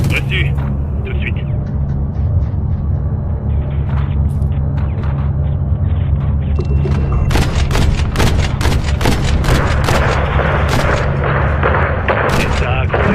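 Dense gunfire in a French-language action film battle scene, with rapid bursts and sharp cracks over a constant low rumble, loud and close and growing heavier in the second half.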